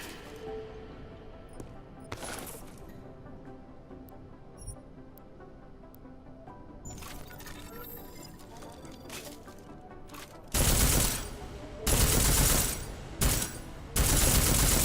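Armor-piercing rounds fired at a target in Deus Ex Mankind Divided: after a quieter stretch with scattered sounds, several loud bursts of gunfire ring out in separate clusters, close and heavy.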